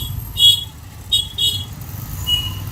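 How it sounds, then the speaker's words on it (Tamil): Several short vehicle horn toots, near and fairly loud, sounding in quick succession over steady low traffic rumble of vans and auto-rickshaws outside Thiruvanaikovil temple in Trichy, India. "சாரி, நிறைய ஹாரன் சவுண்ட்ஸு, வேற வழியே இல்லை."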